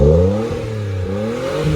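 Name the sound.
car engine revving, bought in Japan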